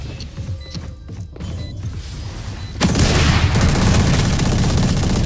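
Gunfire in Valorant, scattered shots and sharp cracks at first, then a dense rapid automatic burst that fills the last few seconds loudly and close, with no talking.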